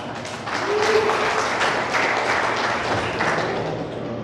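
Church congregation breaking into steady, sustained applause that fills the room at moderate volume, lasting a few seconds.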